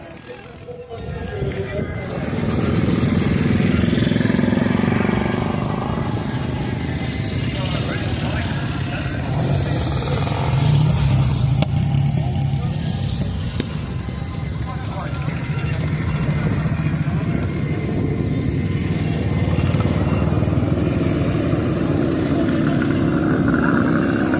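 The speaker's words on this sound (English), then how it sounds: "This is where there are loads of motorbikes here, and they are all coming into the ring at the same time." A mass of motorbikes rumbles into the ring together in a motorcycle parade at the Whitby traction engine rally, a dense, steady engine drone that swells and holds loud and close, with voices talking over it throughout.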